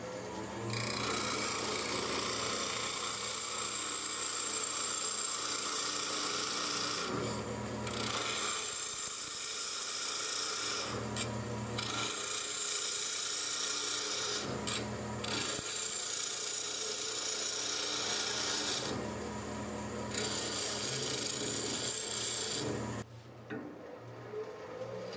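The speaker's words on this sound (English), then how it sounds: "I gotta peel some of the stock away with a skew chisel." A skew chisel peels arbutus wood on a lathe for a goblet, making a continuous scraping, rasping whir broken by a few short pauses, close and loud.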